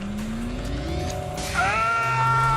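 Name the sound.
car revving and tires squealing in The Grand Tour video game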